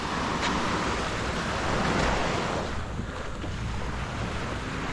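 Ocean waves wash against an undercut concrete shoreline at Waikiki, a steady broadband rush of surf mixed with gusty wind noise on the microphone, continuous and fairly close with no talking.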